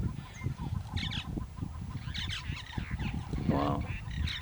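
A bird in Botswana calls near an elephant, giving honking, goose-like cries in short bursts over a rumbling outdoor background.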